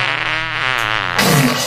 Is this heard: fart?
yes